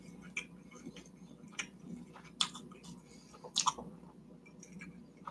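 Someone chews crispy sweet-glazed dakgangjeong Korean fried chicken, with scattered sharp crunchy bites and clicks over a low murmur, close and fairly quiet with no talk.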